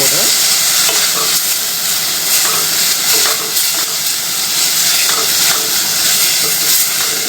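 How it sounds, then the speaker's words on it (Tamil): Drumstick leaves (murangai keerai) sautéed lightly in a pan with the heat switched off for a soup, giving a steady broadband sizzle and hiss with occasional stirring scrapes, close and fairly loud throughout with no talking. "ஆஃப் பண்ணிவிட்டு இங்கே லைட்டாக வதக்கினீங்கன்னா"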